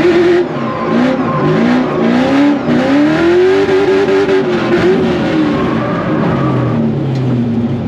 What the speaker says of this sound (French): Lance le drift.